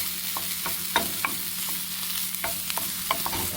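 Sweet peppers and onion sautéing in a pot, a steady close sizzle broken by scattered scraping stirs and small pops over a faint low hum.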